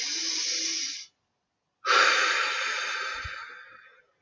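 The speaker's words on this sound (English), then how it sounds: "So take 3 breaths in through your nose and out through your mouth." Two deep, audible breaths close to the microphone during a guided meditation, a long hissing breath followed by a pause and then another long, slowly fading exhale.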